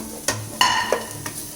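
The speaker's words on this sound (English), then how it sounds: "Your garlic and ginger is also now fried nicely." Chopped garlic and ginger frying with onions in a pan, a soft sizzle broken by a few sharp clunks of a spoon stirring, close up and with no talking.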